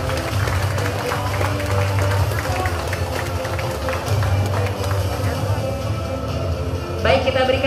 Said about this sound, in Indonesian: kita berikan tepuk tangan sekali lagi yang paling hangat